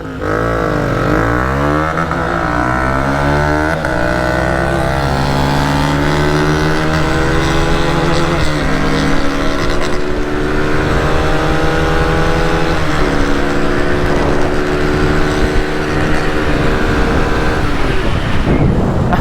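Two Thriller motorcycles, a 2-valve and a 4-valve, launch in a zero-to-hundred drag race, engines roaring loud and close as revs climb and drop with each gear shift, the whine rising repeatedly over about twenty seconds.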